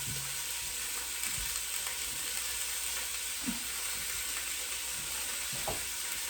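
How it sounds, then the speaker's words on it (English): Meat sizzles steadily in a hot pot, a constant bright frying hiss with a few soft clinks of utensils now and then. "Hopefully you can hear that beef over there sizzling"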